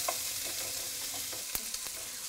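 Speck sizzles and fries in a pan, a dense steady crackle and hiss up close, with a few sharp pops and stirring scrapes.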